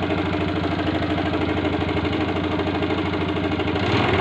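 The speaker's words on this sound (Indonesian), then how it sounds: "dengarkan suara mesinnya. Suara mesinnya kasar," A 2008 Yamaha MX four-speed motorcycle engine idles roughly, a steady close knocking putter with an uneven beat that runs throughout with no voices.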